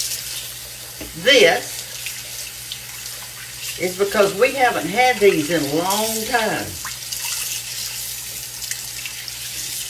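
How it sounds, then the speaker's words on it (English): Cold tap water runs over spare ribs being rinsed at a sink, a steady splashing flow under someone talking, with a few louder spatters as the meat is moved under the stream. "I'm washing them with just cold water, just kind of giving them a rinse off."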